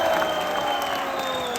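Audience applause at a college ceremony where a chief minister is welcomed, a dense, continuous wash of clapping from a large crowd, loud and steady throughout.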